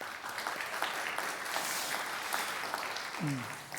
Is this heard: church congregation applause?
yes